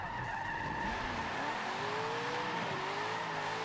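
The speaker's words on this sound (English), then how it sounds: "Look at this for drifting, bro." A car drifts in the racing game Forza 7, tires skidding and squealing in long wavering tones over a constant engine roar, loud and continuous with no talk.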